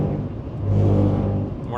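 A car passes a truck pulled over at the roadside in a no-passing zone during a Texas supercell storm chase, its engine swelling into a steady, fairly loud drone that peaks midway and carries on to the end.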